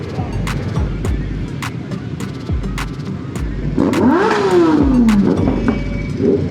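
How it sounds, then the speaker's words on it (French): A Honda Hornet motorcycle roars during a group ride of more than 200 motorbikes, loud engine revs rising and falling close by, with one sweeping pitch climb and drop near the end, and passing engines pulsing underneath. "yaa ngi dégg Hornet bi. yaa ngi dégg moto bi yuuxu sànq ba léegi"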